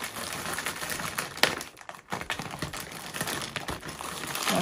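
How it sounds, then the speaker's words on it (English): Small scissors cut into a parcel, with crisp snips and crinkling packaging, faint and close, pausing briefly midway before more rustling cuts. "We're gonna open up the parcel."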